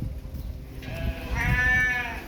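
A sheep bleats once on a farm, a clear wavering call that rises partway through and sounds fairly close over quiet background rustle, with no talk.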